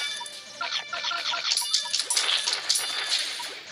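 Dog enemy barking in The Battle Cats mobile game, short yips and barks repeating amid dense game music and effects.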